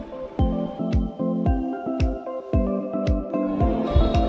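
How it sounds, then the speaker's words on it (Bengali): A chef cuts Chinese eel fish in a restaurant kitchen, producing a steady run of close, wet, thudding chops and squishy knife strokes roughly twice a second, without talk. "রেস্টুরেন্টের দক্ষ শেফ মাছগুলোকে কাটিং করে।"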